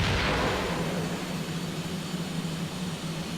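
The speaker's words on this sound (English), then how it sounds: "they fire in a nice big salvo" Rockets fire in a salvo from a Me-262 jet in the flight game IL-2 Great Battles: a burst of whooshing roar that opens loud and settles into a sustained rumbling engine drone.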